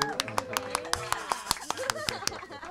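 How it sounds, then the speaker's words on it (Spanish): A small audience claps for women singers during a live radio session; sparse, separate hand claps at an uneven beat, close and moderately loud, with voices and tonal sounds running underneath. "vamos a darle un aplauso a esta gente"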